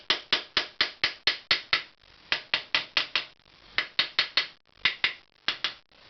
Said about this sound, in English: I can hear by the sound, by tapping on it, that it is in place.